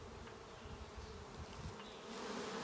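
A swarm of honeybees hums steadily in the open air near a tree branch, a dense, continuous buzzing that rises slightly in loudness toward the end, with no voices.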